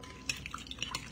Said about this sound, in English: So we're going to give this a quick mix